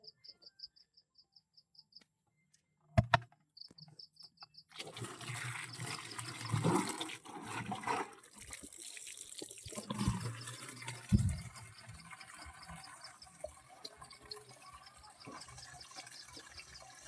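Water rushes and splashes continuously at a river where people have come to collect water, a broad wash of flow that starts after a quiet opening with crickets chirping, and stays moderately loud throughout.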